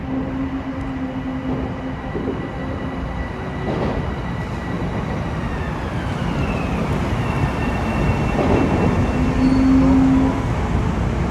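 A Metro-North Railroad train pulls into Fleetwood station, a steady rumble of wheels and rail noise growing slightly louder over about eleven seconds, with a long whine, brake squeal and a brief high tone near the end.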